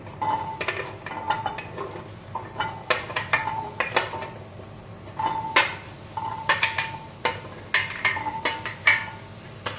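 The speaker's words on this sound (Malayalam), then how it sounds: "ഇനി ആ സെയിം പാനിലേക്ക് ഞാൻ ഈ ചെറിയ ഉള്ളി ഇട്ട് കൊടുക്കുകയാണ്." Small shallots sautéing in a pan for fish pollichathu, with a spoon repeatedly clinking and scraping against the pan in irregular bursts over a low, steady sizzle.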